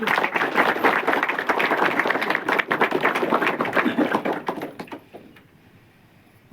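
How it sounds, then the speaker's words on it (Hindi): Temple devotees at a Chaitra Navratri gathering clap together in a loud, vigorous round of applause that continues for several seconds before dying away abruptly, leaving near silence at the end. "तो आप सभी भक्तों के लिए हमारे मंदिर समिति की ओर से एक बार जोरदार तालियां।"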